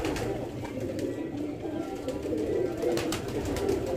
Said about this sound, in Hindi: ये कबूतर है दोस्तों, डैडी सलारा कबूतर है